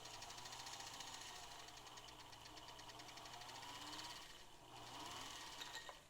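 An old-school Singer bobbin winder whirs steadily as it fills a bobbin, giving a faint, even mechanical hum with a soft rapid rattle that keeps going throughout.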